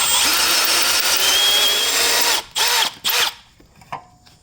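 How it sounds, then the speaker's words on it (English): A power drill bores sideways into a broken bolt on a BMW E9X/E82, whining loudly and steadily, then stopping and restarting in a few short bursts before falling quiet. "And I'm still drilling sideways."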